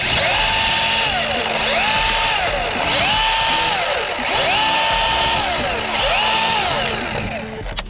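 A chainsaw cuts through a rigged tree trunk, its engine loud and close, rising and falling in repeated revving cycles as it bites into the wood.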